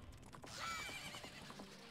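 Epona the horse in a Zelda video game lets out a single whinny mixed with light mechanical clanks and creaks from the game, at low volume.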